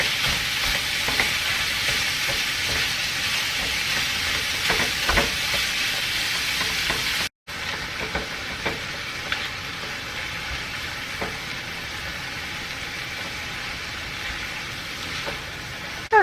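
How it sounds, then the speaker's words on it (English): Ground beef and potatoes frying in a pan for Mexican empanadas: a steady, close sizzling hiss with occasional soft stirring clicks, briefly dropping out midway before the sizzle resumes slightly quieter. "we're going to cook it until it's nice and brown"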